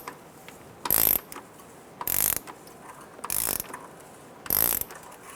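A ratchet with a 24mm socket snugging the oil drain plug on a Toyota 4Runner, heard as four bursts of rapid clicking spaced about a second apart, close and clear against a quiet background.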